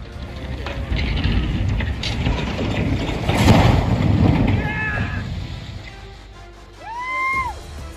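A building collapsing during demolition with a backhoe, a rumbling crash of falling debris that swells and fades, mixed with wind-like noise, distant shouts and voices nearby.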